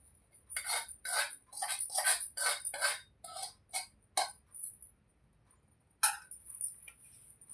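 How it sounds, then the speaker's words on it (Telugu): Mango pickle being stirred with tempered oil of cumin, fenugreek and mustard seeds, a spoon clinking and scraping against a dish in short repeated bursts, then a pause and a few more clinks. "జీలకర్ర, మెంతులు, పోపు గింజలు వేసిన నూనెను ఇది మాత్రం వేసుకొని కలుపుతున్నానండి"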